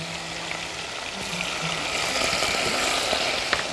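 Garlic hits hot oil and butter in a pan and sets off a bright, hissing sizzle. The sizzle swells after a moment and holds steady, close and fairly loud, with faint kitchen clatter.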